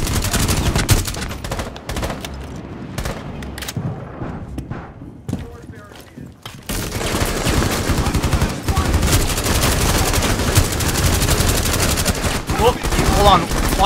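Rapid gunfire from the video game Rainbow Six Siege, with loud bursts that thin out into a quieter stretch near the middle before dense, sustained shooting resumes, mixed with game sounds and players talking over it.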